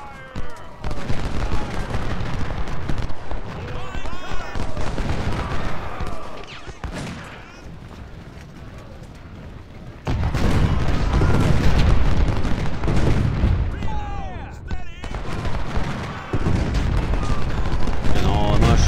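Cannon booms and rapid musket volleys from the Ultimate General: Civil War battle at Bayou Fourche, a dense, continuous barrage that surges louder after the midpoint, with a voice talking over the din.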